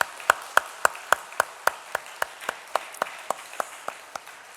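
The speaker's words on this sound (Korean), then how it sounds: "하나님께 감사의 박수 올리겠습니다." Congregation clapping at a church New Year blessing service, sharp claps in a steady unison rhythm of about three per second, gradually softening over a quiet background.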